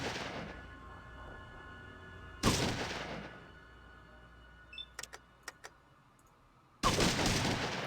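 Burst gunfire in the video game Fallout: two loud broad blasts a few seconds apart, with a cluster of sharp clicks and small impacts between them over a faint low hum.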